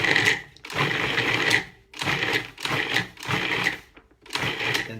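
A food processor pulsing 7 tablespoons of butter into tart dough, five loud bursts of whirring motor, each about half a second to a second long with brief silent gaps between them, close up.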